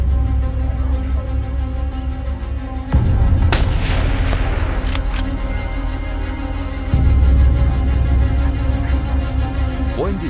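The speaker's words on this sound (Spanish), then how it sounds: "Buen disparo del montero." A single sharp hunting rifle gunshot during a montería hunt in Encinasola cracks out loud, followed by a rolling echo over a steady low outdoor rumble.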